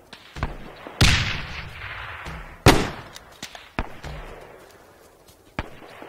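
Artillery rounds fire in ArmA 3, a series of sharp, heavy booms spaced irregularly, each trailing off in a long rolling echo, with a few fainter distant thuds between them.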